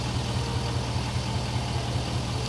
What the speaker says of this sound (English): It's not much to listen to. V8 sounds better, but diesel's still super smooth.